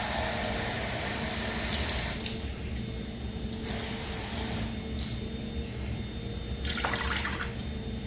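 Water runs steadily from a tap into a container, a continuous rushing stream with a hum underneath, changing tone slightly as it fills, measuring 2 cups.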